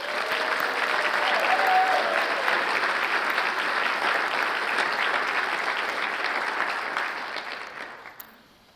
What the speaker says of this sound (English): Let's give a final big round of applause for all of our Crystal Apple Award winners and nominees